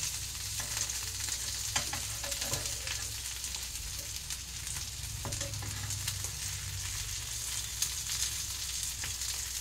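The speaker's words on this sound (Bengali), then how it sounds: "এইভাবে কাট করে দিয়ে পেটের দিকটা ভাজবো" Fish sizzles and crackles steadily in a hot pan, with occasional scraping as it is moved.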